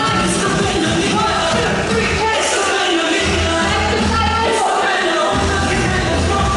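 Crowd of people milling around a pub on a cruise ship, a steady, busy wash of overlapping chatter and voices close by, continuous throughout with occasional louder calls.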